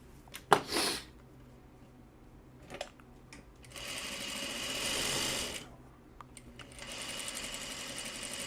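A sewing machine runs in two bursts of steady motorized stitching with a short pause between them, close and fairly quiet, after a few clicks and handling knocks at the start.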